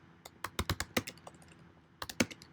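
Code is typed on a computer keyboard in two quick bursts of crisp key clicks separated by a short pause, close and clear with no talking.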